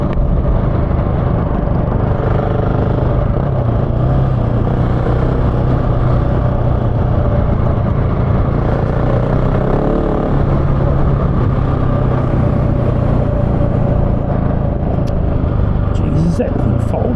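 A GasGas 700 motorcycle engine runs steadily and loudly at close range while riding in the bush, with a constant droning roar and wind buffeting, and a voice talks over it.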